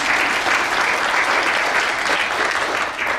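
A summit audience applauds the Department of Social Services in a loud, dense, continuous wash of clapping that stays steady for a few seconds without any voices over it.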